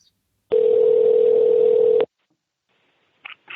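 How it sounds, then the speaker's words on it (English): A Skype call rings as one steady electronic tone lasting about a second and a half, then cuts off into near silence, with a faint brief sound near the end. "So you'll hear the phone actually ring."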